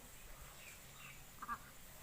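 Ducks tethered behind a rural house near a paddy field give one faint, brief quack at a distance amid quiet outdoor background.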